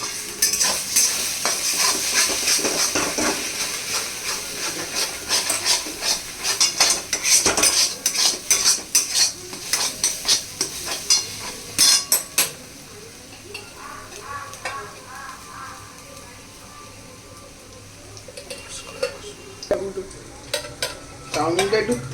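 An egg fries and gets stirred in a pan while chowmein is made. Busy metal scraping and clinking runs over a sizzle, then eases into a quieter frying hiss before a few more stirs at the end. There is no talking.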